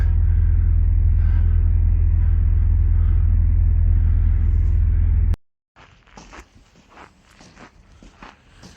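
A car being driven out of a base yard in Novosibirsk, a steady loud engine rumble close by that cuts off abruptly, followed by quieter shuffling and handling noises.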